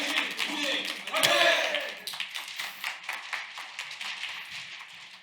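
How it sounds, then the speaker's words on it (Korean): An audience in a contest hall claps to welcome the next presenter taking the stage, a brief burst of applause that fades into scattered claps, with voices murmuring underneath. "큰 박수로 맞아주시기 바랍니다"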